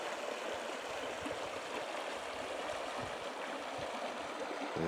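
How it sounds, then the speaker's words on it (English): A steady, faint rush of creek water flowing in a forest valley, even and continuous with no voices. "There's creek."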